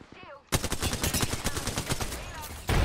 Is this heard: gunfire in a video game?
yes